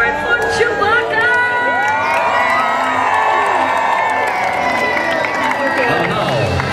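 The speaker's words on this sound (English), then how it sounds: "I think everybody's favorite Wookiee needs a big round of applause" A large outdoor crowd at a Star Wars celebrity motorcade parade at Disney's Hollywood Studios cheers loudly for Chewbacca, with whoops, children's shouts and scattered clapping in a steady roar.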